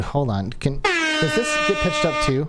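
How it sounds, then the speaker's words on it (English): A long, loud air horn sound effect blares steadily for over a second, with a voice talking just before it and over its closing part. "I wanted the air horn to get pitched."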